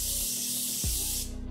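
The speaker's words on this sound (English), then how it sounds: "so I'm gonna do a test spritz" A single short hissing spritz of facial setting spray from a pump bottle, loud and close, lasting just over a second before cutting off.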